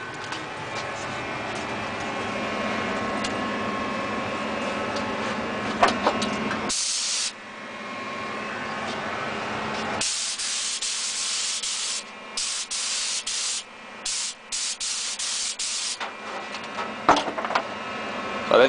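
Lacquer spray bursts onto a Telecaster guitar neck being reshaped from a C to a V profile, loud steady hissing in several separate passes with brief silent gaps between, and no talking.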